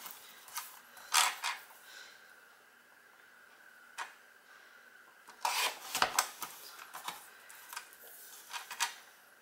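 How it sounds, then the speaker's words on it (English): Paper card stock is trimmed down with scissors or a cutter in a quiet room. Several soft, close snips and rustles come in scattered bursts with pauses between them, and nobody speaks. "let's trim this down as close as I can get it"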